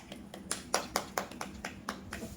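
Hand claps in a roughly steady series of about ten sharp, fairly close strikes over a low hum, with no talking.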